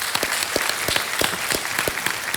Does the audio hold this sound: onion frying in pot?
no